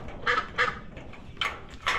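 A Peking duck quacks four times in short, raspy bursts, close by, with brief pauses between calls and faint background noise.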